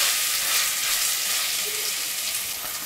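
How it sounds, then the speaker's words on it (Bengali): Ginger and garlic paste fries in a pan with a steady, dense sizzle that holds evenly from start to finish, close and alone with no voices. "আদা ও রসুনের কাঁচা গন্ধটা চলে যাওয়া পর্যন্ত এগুলোকে আমি একটু ভেজে নিলাম।"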